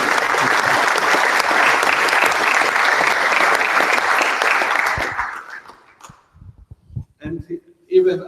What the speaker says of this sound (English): she needs a special applause for this.